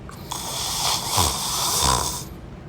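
A voice imitates loud snoring: two long, rasping snores, each with a deep rumbling inhale, filling the whole stretch without any talk.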